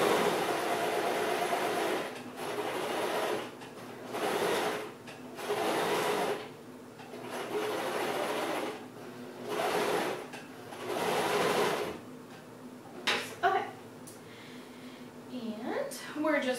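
Sewing machine stitching around the edge of a handmade over-the-shoulder bag, running in about six steady bursts of a second or so each, separated by short pauses, with some light handling noise toward the end.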